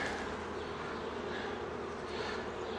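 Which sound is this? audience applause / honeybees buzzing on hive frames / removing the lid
honeybees buzzing on hive frames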